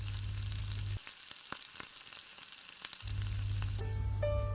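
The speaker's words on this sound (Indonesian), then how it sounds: "Masak dengan api sedang hingga ayam menyerap bumbu." Soft steady sizzling and bubbling of chicken simmering in spiced sauce in a pan over medium heat, close and quiet, with a few faint clinks.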